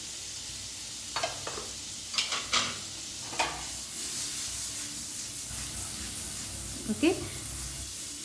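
Amul butter melts in a pan with a soft, steady sizzle, broken by a few light clinks of a spoon, while someone talks over it.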